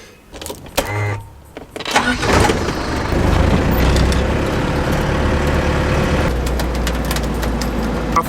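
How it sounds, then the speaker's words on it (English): Melbourne road traffic heard from inside a Land Rover Perentie, with a steady engine rumble and passing vehicles forming a constant, fairly loud drone after a few knocks and shuffles at the start. "Nothing like a little bit of Melbourne traffic."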